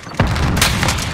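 Frag grenade blowing up in the tactical shooter ShootHouse: one heavy, close boom followed by rumbling debris and a second sharper crack trailing off.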